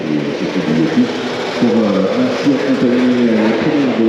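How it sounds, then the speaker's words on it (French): Two-stroke racing motorcycles at a 24-hour endurance race ride past on their way to warm up, their engines giving a loud, rasping, buzzy drone that rises and falls as each bike goes by close at hand. "Moi, le bruit du 2 temps, j'adore."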